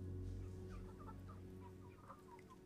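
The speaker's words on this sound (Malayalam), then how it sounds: "നാടൻ കോഴികളാണോ അതോ?" Backyard chickens kept in an iron coop cluck in short, soft bursts scattered across a few seconds, faint and close, over a steady low hum.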